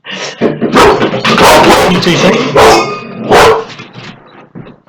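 A dog barks at a postman, loud and close in repeated bursts mixed with people talking.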